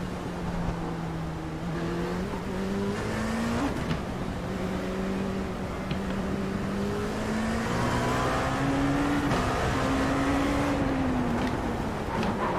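Dallara P217 prototype race car at Daytona Road course in a racing simulator, its engine droning steadily and rising in pitch through long accelerations, loud and continuous with a brief gear-change dip, no voices.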